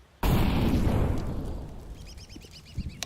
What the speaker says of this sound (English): Grenade out. Incendiary.